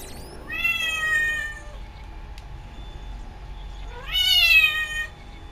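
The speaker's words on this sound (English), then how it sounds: "I don't know what's wrong with my cat." A house cat gives two drawn-out, wavering meows near the microphone, one early and one louder later, with a quiet stretch between them and a steady background hum throughout.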